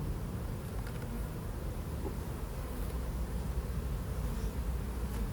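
Honeybees hum steadily during a beehive inspection, a dense continuous buzz close to the microphone with no voices.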